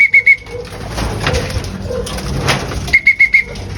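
A young racing pigeon at a loft makes soft, low calls, with bright repeated chirping notes at the start and end and some rustling and bumping in between.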